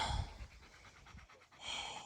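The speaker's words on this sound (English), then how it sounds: "he's pretty tired, panting hard" A tired dog panting hard after a steep outdoor hill climb on a hike, rapid breathy huffs in a steady rhythm close by, with no talking.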